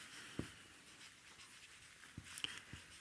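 A pen scratches briefly on paper during a math lesson, a few faint, close strokes and taps in an otherwise quiet room.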